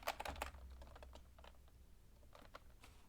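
Fast, uneven key clicks come from a computer keyboard during a live Z80 programming session, with dense bursts at the start, a sparser middle and a few more strokes near the end, close and fairly quiet, with no speech.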